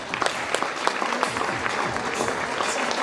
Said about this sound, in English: A big round of applause to all the prize winners.